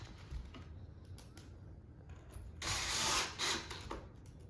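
Screws being driven into pocket holes of a wooden farmhouse shoe bench, faint ticking clicks followed by a louder whirring burst near the end, close up and without speech.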